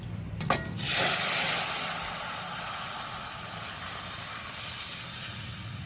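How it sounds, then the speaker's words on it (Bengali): Moong dal cooked with pointed gourd is poured into a hot wok over fried tempering spices, giving a brief splash followed by a loud, steady steam-laden hiss that slowly settles but keeps sizzling throughout. "পটল দিয়ে যে মুগ ডালটা আছে সেই ডালটা আমি এই কড়াইতেই ঢেলে দেবো।"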